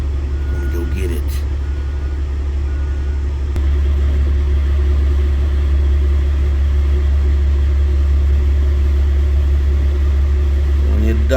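A 1971 Chevrolet C20 pickup idles after a cold start in December: a loud, close, steady low engine rumble that settles into an even drone, with brief voices near the start and end.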